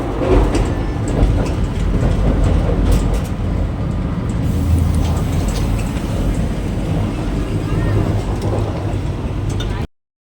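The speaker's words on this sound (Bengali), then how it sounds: "Bande Bharat Express. দরজা খোলা স্টাইলটাই আলাদা" Steady rumble of a moving Vande Bharat Express train heard from inside, with continuous rolling noise and people chatting faintly in the background.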